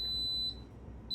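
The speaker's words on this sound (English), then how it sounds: "That beep is saying that my beans are done." A kitchen timer signaling cooked beans emits steady high-pitched electronic beeps, one long tone then a second starting near the end, fairly faint in a quiet kitchen with no talking.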